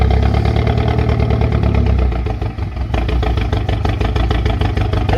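A 2017 Chevrolet Camaro's 2.0 turbo four-cylinder idles roughly with a bad misfire and a dead cylinder, giving a loud uneven chugging pulse and clatter that stumbles briefly mid-way before the lumpy beat resumes.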